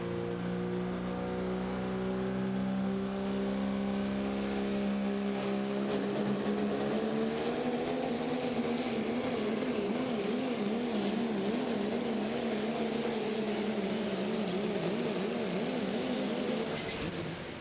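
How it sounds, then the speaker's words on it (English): Pro Stock diesel truck pulling a sled at a Terre Haute, Indiana pulling event, its engine roaring loud and continuous with rising, wavering harmonics as it bounces down the track, no talk over it. "And the Chapter 11 truck also suffering from some of those bounces rolling down through there"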